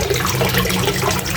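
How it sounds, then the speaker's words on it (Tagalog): Water rushes steadily and loudly through a concrete tilapia pond's water system, a continuous close splashing flow with no pauses. "maganda pa ang takbo ng tubig"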